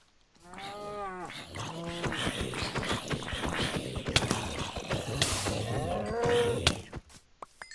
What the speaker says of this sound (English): I love how all these cows are down here.